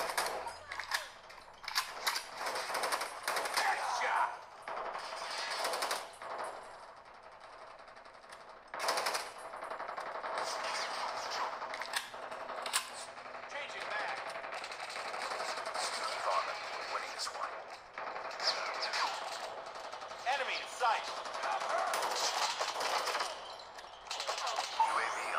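Gunfire from Call of Duty playing on a POCO F4 GT phone speaker, thin bursts of rapid shots and game effects throughout, fairly quiet with uneven loudness, with talking underneath.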